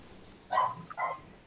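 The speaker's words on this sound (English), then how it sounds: "Can y'all hear the dog barking in the background?" A dog barks twice in quick succession in the background, short and moderately faint against a quiet room.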